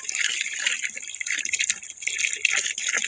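Strong flow of tap water while fetching water, a steady, fairly loud hissing gush with no talk over it.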